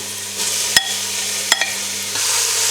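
Plenty of onions frying in a hot pan for French onion soup, a steady close sizzle broken by two sharp utensil clinks and a small scrape.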